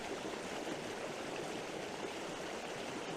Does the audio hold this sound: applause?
no